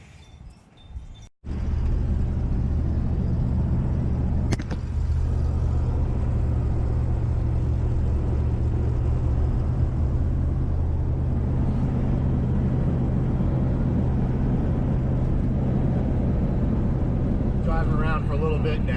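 A 1988 9C1 car drives after a coolant flush, heard from inside as a steady, loud engine and road rumble that holds constant after a brief quieter start.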